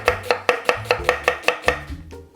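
A knife chops vegetables on a cutting board in eight quick, evenly spaced strikes, each a sharp close knock, with no talking.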